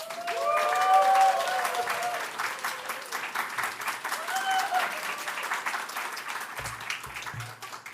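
A church congregation at a Sunday service breaks into loud, sustained applause and cheering as a pastor comes forward, dense clapping filling the hall throughout with a few voices rising above it.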